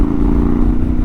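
Yamaha Tenere 700 motorcycle with a new aftermarket exhaust, engine running with a steady, loud low rumble and throb at idle or light rev, close by and alone.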